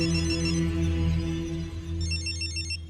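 A telephone rings with an electronic warbling trill that starts partway through, over a low droning musical background.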